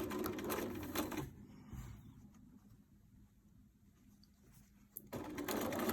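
A sewing machine stitches a fabric beach pouch in two close, loud whirring runs, with a quieter pause between them.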